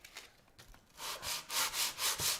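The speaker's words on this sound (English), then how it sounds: "Big sandpaper." Big sandpaper rubbed back and forth on the fretboard of a 1982 Gibson SG during fret work, loud rasping strokes in a steady rhythm of about six passes, close up and alone.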